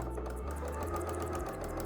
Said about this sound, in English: So just letting the sewing machine kind of feed it through.